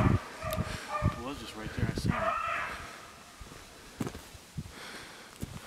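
Hunting dogs bark and yelp at a distance while trailing a rabbit across gravel outdoors, with scattered calls under someone talking nearby.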